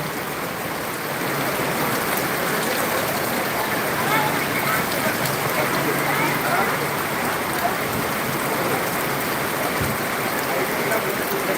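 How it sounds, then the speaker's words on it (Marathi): Heavy unseasonal rain pours steadily onto a vegetable market street in Boisar, Palghar district, a dense continuous hiss of drops spattering on wet surfaces and pooled water, loud and unbroken with no pauses. "आता भरपूर पाऊस आहे"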